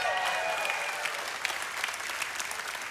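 A church audience applauds, a loud, dense burst of clapping that carries on steadily, with a little cheering mixed in.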